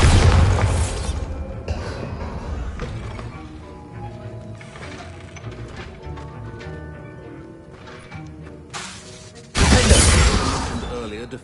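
Spell-casting blast from a Bombarda curse in the Hogwarts Legacy video game: a loud explosive burst opens, game sounds and music-like tones follow, then a second sharp burst arrives near the end.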